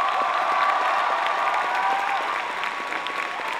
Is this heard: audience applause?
yes